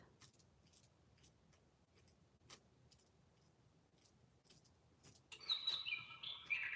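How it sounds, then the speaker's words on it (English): Faint clicks and ticks sit over quiet background, then a small bird chirps several times near the end, high and bright. "I hear you, bird."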